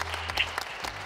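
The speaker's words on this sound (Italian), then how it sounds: "Facciamo un applauso a Simone e Brunetti." Brief audience applause greets the winner of a vegetarian sandwich cooking contest final, a short burst of scattered clapping at moderate level with no voices.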